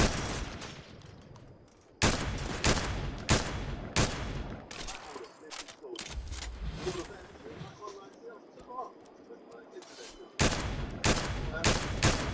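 Gunfire in the video game Fortnite Chapter 3: rapid bursts of sharp automatic shots in loud clusters, with quieter gaps between them where a person talks.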